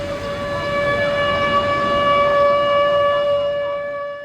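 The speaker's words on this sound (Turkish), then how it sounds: "Siren sesiyle bir dakikalık sessizlik başlıyor." A civil defense siren sounds a steady sustained wail to mark a minute of silence at an outdoor World Environment Day event in Bodrum, heard alone with no voices.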